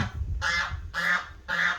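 Three loud geese honks come close together at an even pace, with nothing else heard between them.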